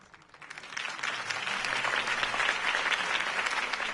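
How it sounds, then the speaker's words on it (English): A crowd in Batman: The Telltale Series breaks into applause after a campaign speech, dense clapping that swells in the first second and then holds loud and steady. "could have heard that applause"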